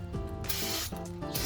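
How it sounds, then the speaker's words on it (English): Brake cleaner sprayed onto the brakes of a 2012 Chrysler 300 during a brake change, a close, continuous hissing spray with short breaks and some tonal noise from nearby equipment, with no talk. "take my brake cleaner and just kind of spray everything"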